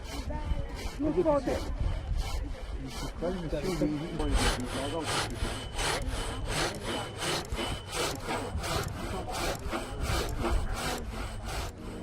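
An electric saw cuts through wood in rapid, regular rasping strokes, with voices talking over the first few seconds.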